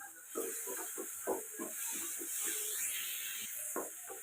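Chopped guava sautéing in a pan for halwa gives a steady, moderate sizzling hiss that runs the whole time, with faint voices and soft clatter underneath.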